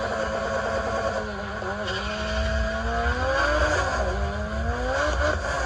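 A Honda Civic race car's engine climbs through the revs on a second-to-third gear shift at a muscle car shootout, bouncing off the rev limiter twice, with sweeping tones and a voice talking over it.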